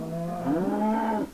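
A cow mob in Minecraft gives a drawn-out, low, moaning moo that rises slightly partway through, heard once, close and clear with no talk over it.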